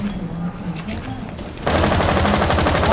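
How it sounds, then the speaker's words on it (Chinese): Automatic gunfire in Rainbow Six Siege bursts in loudly partway through, a dense rapid rattle that follows quieter game ambience with faint voices. "拿机枪那边扫三下"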